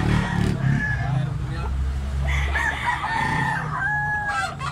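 A fighting rooster crows loudly at a cockfight in Tabunok, Cebu, with several drawn-out crows and some clucking heard over crowd chatter and background engine noise.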